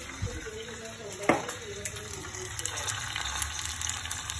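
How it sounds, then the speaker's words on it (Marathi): Water poured into a hot pan while making chutney for dosa sizzles and hisses briefly, then settles into a soft bubbling under faint kitchen noise. "थोडासा पहिले पाणी ॲड करूया"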